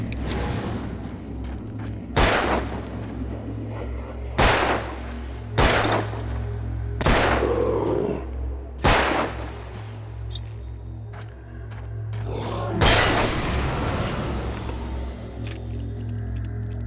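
Gunshots in the video game Alan Wake, six loud, evenly spaced booming shots roughly every two seconds over a steady low hum, followed by a longer rumbling swell.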